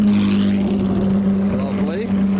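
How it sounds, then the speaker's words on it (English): A Lister race car drives past at a classic supercar gathering, a steady engine drone with a rising whine as it goes by, heard under a person talking. "I think that was a Lister"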